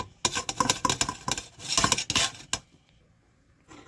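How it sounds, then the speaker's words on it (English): A metal utensil scraping and clinking against a dish while egg noodles are mixed with a brie herb spread, rapid uneven clatter for two and a half seconds, then a pause and a brief resumption. "we're going to mix all that in with our egg noodles"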